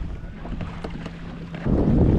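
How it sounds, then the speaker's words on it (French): Strong wind gusts over the sea during September kayak fishing, a loud, steady rush of wind buffeting the microphone, swelling noticeably louder for the final half second. "Et donc là il y a un vent assez puissant."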